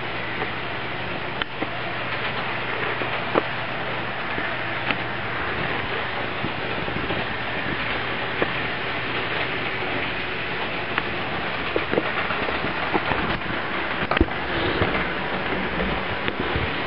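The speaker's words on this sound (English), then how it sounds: "quick view of a train running around my layout." An HO scale model train pulling a track-cleaning train circles a layout, a low, steady rolling rumble with faint clicks from the rails that holds at an even level throughout.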